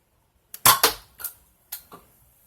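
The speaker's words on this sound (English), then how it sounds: "And now I'm going to go ahead and fire it." A BoomCo Kryptonite Strike toy blaster fires close by, giving a sharp plastic snap followed by a few quick clacks and a final click, with no talking.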